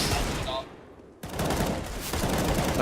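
Desert Eagle pistols firing in an esports video game match: loud rapid bursts of gunfire, a brief lull, then more shots in quick succession.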